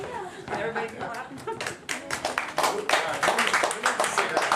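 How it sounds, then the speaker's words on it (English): A crowd claps together, a dense patter of many hands that swells slightly louder toward the end, with a bit of voice mixed in. "Everybody can clap."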